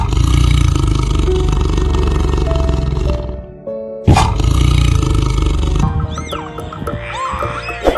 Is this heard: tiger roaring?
yes